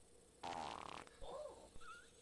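A fart sounds close and quiet, starting as a sustained, rumbling buzz that stutters into a fluttering tail, with a few softer squeaky blips after it and no talking.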